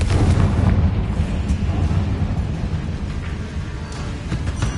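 A Confringo spell blast in Hogwarts Legacy roars as a loud, sustained, deep rumbling explosion that slowly tapers off, with faint crackles scattered through it.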